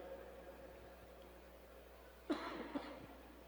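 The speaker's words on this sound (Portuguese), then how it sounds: "Eu estou com uma tosse já faz um mês, quase." Two short coughs from a person with a month-long cough stand out against quiet room hiss during a church service, the first a little stronger, spaced about half a second apart.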